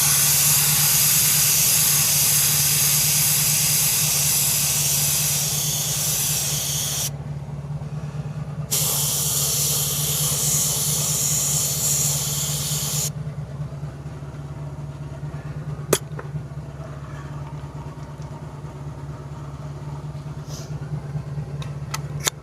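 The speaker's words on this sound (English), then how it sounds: "You're going to want to paint or spray the paint away from that V and into the shield" Aerosol paint sprays onto a repaired Cadillac Escalade V rim in steady, close hissing bursts that stop and restart. A quieter stretch follows with a faint background hum and a couple of small clicks.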